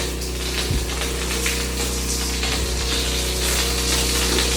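Water sprays steadily from a hose while a new house is washed, a constant loud hiss over a low pump hum, with a couple of brief knocks.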